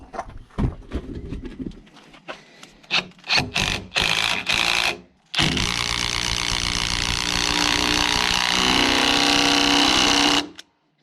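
A screw being driven into oak wood for a timber roof frame, a stuttering series of short driver bursts followed by a long steady whine of the motor as the screw bites deep, close and loud.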